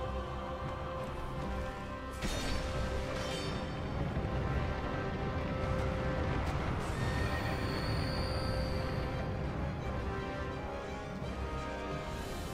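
A horse in Dark Souls 2 whinnies and neighs, starting near two seconds and recurring in drawn-out calls over a bed of game music and effects, with faint hoof clops and no one talking.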